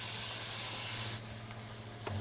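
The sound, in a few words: onion and carrot frying in duck fat in a pan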